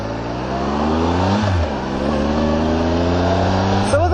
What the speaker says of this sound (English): it's a very, very smooth engine. This little 3-cylinder is beautiful.